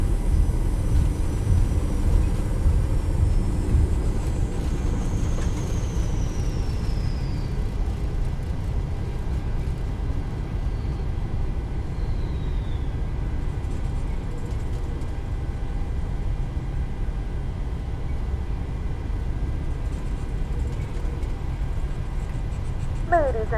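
A Boeing 737 taxiing after landing in Microsoft Flight Simulator, a steady low engine rumble inside the cabin that holds for the whole stretch, with a faint whine sweeping through at times and a brief click near the end.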